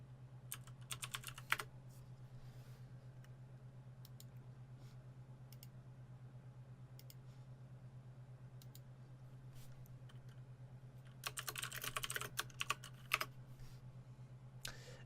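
Computer keyboard typing in two bursts, a quick flurry at the start and another near the end, with scattered single keystrokes between, fairly close over a steady low electrical hum while writing game notes.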